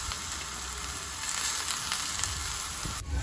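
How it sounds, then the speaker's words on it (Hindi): Tomatoes, onion, garlic and a green chili fry together in a pan, making a continuous close sizzle with a faint clink near the end and no speech. "साथ में ही डाल दिया एक प्याज, थोड़े से लहसुन और एक ग्रीन चिली, और इसको भी सबको अच्छे से भून लेना है।"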